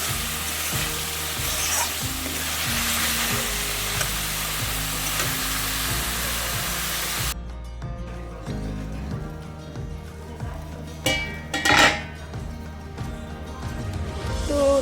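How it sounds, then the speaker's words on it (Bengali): Spice paste and potato sizzling in oil for a fish curry, a steady loud frying hiss, then broth poured in with a sharp sputter and bubbling bursts. "তো দেখো মশলাটা কষে গেছে, এবার ঝোল দিয়ে দেবো।"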